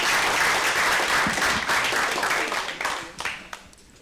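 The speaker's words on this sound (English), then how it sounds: "So let's give these guys a round of applause." A live audience gives a round of applause to the instructors of a six-week real estate flipping course, with dense clapping that fades toward the end and a little crowd noise.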